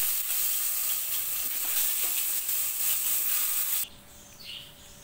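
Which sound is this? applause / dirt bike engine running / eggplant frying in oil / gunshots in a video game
eggplant frying in oil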